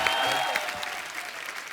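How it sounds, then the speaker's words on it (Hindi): A TV talk show studio audience on The Kapil Sharma Show applauds steadily, welcoming a guest, a dense patter of many hands clapping throughout with a few faint cheers. "आप सबकी जोरदार तालियों के बीच प्लीज वेलकम शिबानी दांडेकर।"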